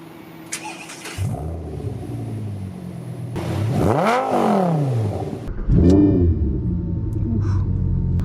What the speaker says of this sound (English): we're setting off in the 2010 Lamborghini Gallardo LP550-2 Balboni